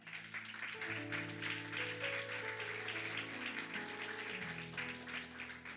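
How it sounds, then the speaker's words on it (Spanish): A church congregation claps together in a steady, sustained round of applause. The clapping is faint and distant, with soft sustained musical tones underneath. "Denle un aplauso al Señor."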